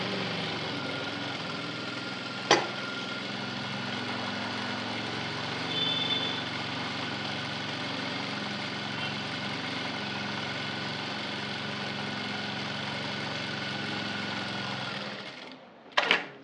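Sewing machine running steadily while stitching along a blouse edge, a continuous even whir with a single click near the start and a clatter as it stops at the end.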